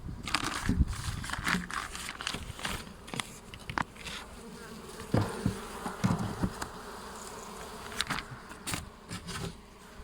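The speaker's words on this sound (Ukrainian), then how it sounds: "Ось так тут бджоли." Dense buzzing of many honeybees at an open hive fills the air, punctuated by crinkling and clicking noises of frames being handled close by.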